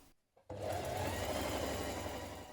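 A sewing machine runs steadily, stitching the side seams of a New Look 6197 shirt, starting abruptly after a brief quiet moment and then humming and whirring continuously at close range.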